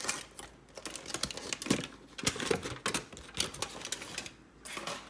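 Aluminium foil peeled and crinkled off a very hot pudding, a dense run of close, sharp crackles and rustles that keeps going with no talking.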